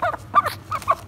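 A male chicken being raised and fed for show gives short throaty clucking calls in a few quick close bursts, with no talk.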